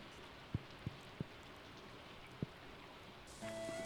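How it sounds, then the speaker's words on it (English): Steady broadband rain hiss from Stardew Valley, a farming video game, with a few sharp low taps scattered through it. A brighter chime-like tone enters near the end. "And it is raining"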